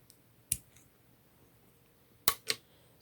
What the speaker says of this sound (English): go ahead and cut the crochet thread and fasten